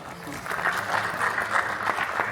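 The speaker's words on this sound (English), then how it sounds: "A big round of applause" A crowd at a cultural gala at Brent Civic Centre in Wembley, London claps after a Bihu dance, a steady, moderately loud patter of many hands over a couple of seconds.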